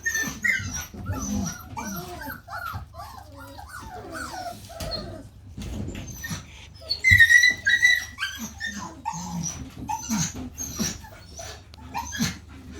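Springer Spaniel puppies, three to four weeks old, whimper and yip outdoors in a string of thin, high cries and short barks, near and irregular, with a louder burst midway.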